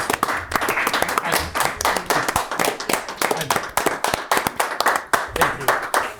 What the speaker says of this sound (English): I will stand and give you a round of applause because I do really appreciate everything you've done